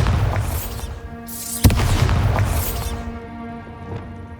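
A Bombarda spell cast in Hogwarts Legacy bursts with a loud, booming explosion and a sharp crack in the middle, surrounded by magical whooshes and a rumbling tail that fades out.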